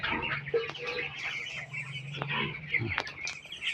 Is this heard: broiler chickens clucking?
yes